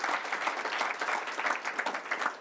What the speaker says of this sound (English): We can clap after the official swearing in.